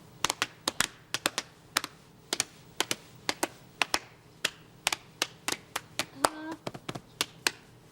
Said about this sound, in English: I was clapping my knees, my chest, and my hands.